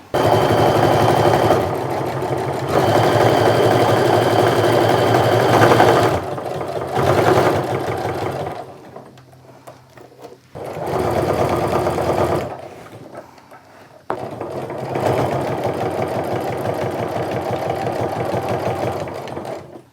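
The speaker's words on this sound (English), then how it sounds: "we're also going to do a top stitch a 1/4 inch away from this in order to keep it nice and attach it to the bag" A sewing machine top stitching a bag, its steady mechanical whir running in several long bursts with short pauses between, loud and close, with no talk.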